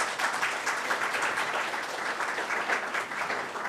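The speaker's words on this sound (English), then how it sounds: "So that's a round of applause for the institute." A conference audience applauds steadily, a continuous wash of many hands clapping at moderate distance with no voices over it.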